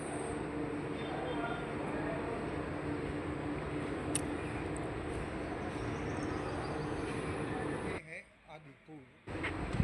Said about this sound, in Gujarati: અહીં પણ ટ્રેન ધીમી પડી ગઈ છે મતલબ કે ઊભી રહેવાની છે